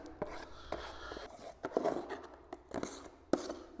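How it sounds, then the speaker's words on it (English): Drywall joint compound being mixed in a pan with a knife, giving uneven scraping and slapping strokes at close range with sharp clicks between them, no voices. "You just mix it up in your pan."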